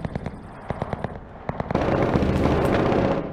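Gunfire from a bunker in the shooter game Cuisine Royale: a rapid rhythmic series of sharp shots that swells into a dense, continuous roar of overlapping fire, fairly loud and alone.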